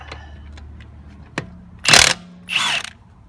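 A wrench loosens a wheel lug nut with a few light ratcheting clicks and taps, then two sharp, loud bursts as the nut breaks free. The sound is close and brief, with no talk.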